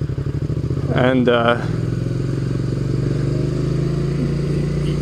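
Idling motorcycle engine putters in a close, steady rhythmic chug, joined briefly by a voice, then settles into an even low drone as the rider works the clutch to pull away.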